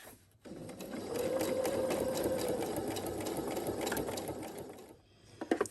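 A sewing machine stitches a long curved seam in quilting fabric for improv curved piecing, a steady close whirring drone running for about four seconds before stopping, with a few light clicks at the end.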